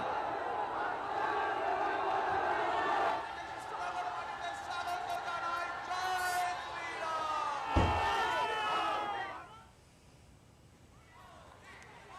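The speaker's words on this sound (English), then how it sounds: "A huge crowd gathered to greet the Prime Minister during the rally." Large crowd at the Prime Minister's road show rally in Krishnanagar cheering and shouting in a dense, continuous roar, with a sharp thump midway and a sudden drop to quieter murmur near the end.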